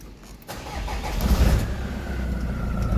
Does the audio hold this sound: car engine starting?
yes